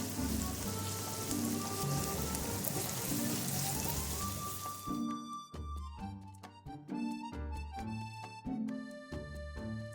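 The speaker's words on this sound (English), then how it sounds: "Sauté the chopped onions in oil until they turn golden brown." Finely chopped onions sauté in hot oil with a steady, dense sizzle for about five seconds, then music takes over.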